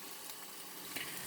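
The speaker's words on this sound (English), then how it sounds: "I don't know if you can hear the sizzle in the back." Calf liver and onions sizzling in a pan inside an RV kitchen, a faint steady frying hiss in the background with a slight brief rise near the end.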